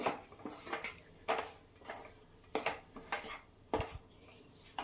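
Metal spoon stirring semolina and sugar in a pan for rava laddu, with a series of scraping clinks that come in irregular bursts, close and fairly quiet, with no talk.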